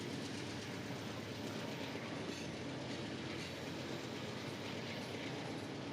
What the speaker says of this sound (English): We can see the train disappear under the canopy